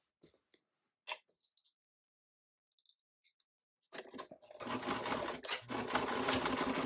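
A sewing machine back stitches a seam on a classic tote bag, starting with a few faint ticks and clicks before the motor runs steadily and loudly for the last few seconds.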